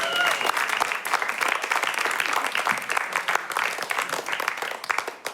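Live audience at a music show for a duo bursts into steady, dense applause, a continuous wash of many hands clapping at close range with a few brief cheers mixed in.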